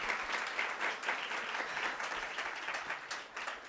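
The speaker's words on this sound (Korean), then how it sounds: "Un aplauso para la directora, por favor." An audience at an Atomy business seminar applauds the branch director: dense, steady clapping from many hands, fairly close and sustained throughout, with no voices above it.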